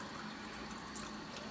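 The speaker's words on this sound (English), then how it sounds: "next you want to take your plants and rinse off the remaining dirt" Room-temperature running water splashes steadily as dirt is rinsed off plant roots for a small hanging pond planter, a continuous even hiss with no voices.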